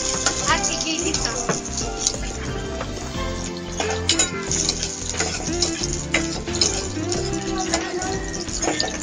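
Onion and garlic sautéing in a hot pan for Filipino red chicken sinigang, a steady loud sizzle with stirring scrapes and occasional clinks of utensil on pan, while someone talks over it.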